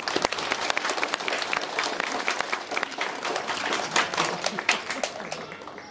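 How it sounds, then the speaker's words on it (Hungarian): Audience applause at a school graduation and end-of-year ceremony for fourth-graders, a dense, steady wash of many hands clapping that continues for the whole stretch with no voices over it. "Balázs Bécsi Ágnes, hatalmas tapsol!"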